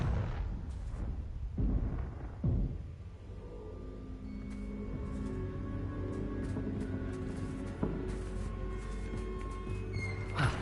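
A Confringo fire spell blast in Hogwarts Legacy bursts with a sharp, booming explosion, followed by rumbling debris and scattered crackles beneath a busy game soundscape.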